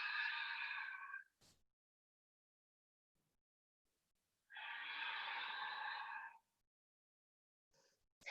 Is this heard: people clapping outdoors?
no